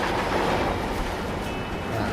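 A roller coaster train in Planet Coaster 2 runs along its track with a steady rumbling clatter, a loud continuous roll with no pauses.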